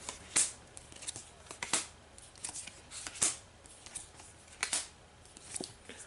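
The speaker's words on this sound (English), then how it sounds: "Ezran here has got to draw 6 cards" Cards drawn one after another in a Pathfinder Adventure Card Game session, crisp flicking and sliding snaps repeating close by at a steady pace over a quiet room with no speech.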